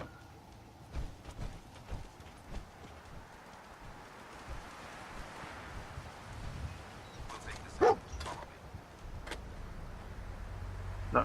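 Dogmeat the dog gives scattered barks and whimpers in Fallout 4, heard as a few sharp yips over a soft hissing background, with one louder bark near the end.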